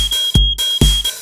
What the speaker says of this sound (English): raving to the sound of the fire alarm